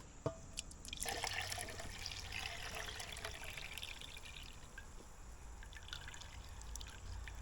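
A vinegar and water pickling mixture poured into a pot for mushrooms, a soft steady liquid stream with a faint splash at the start, quiet and close with no talk.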